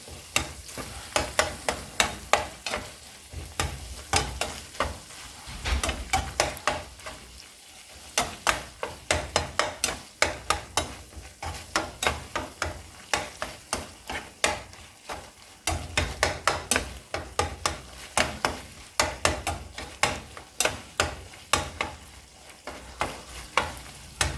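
Fideo with ground beef and seasoning is stirred in a pan, a steady run of close, rhythmic utensil scrapes and knocks over a soft background sizzle, no voices.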